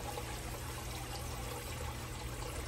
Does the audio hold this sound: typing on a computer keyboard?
no